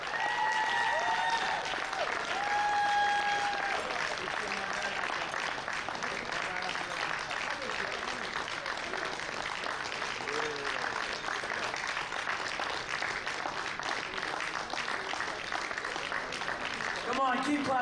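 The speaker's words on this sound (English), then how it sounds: "the audience will give them a continuous round of applause for all of our athletes" Continuous audience applause at a powerlifting national championship, a steady broadband wash of clapping that fills the whole stretch with some voices and cheers mixed in.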